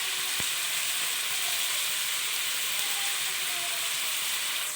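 Boneless chicken frying in a pan with vegetables, a steady soft sizzle hissing continuously at moderate volume, with a brief knock near the start.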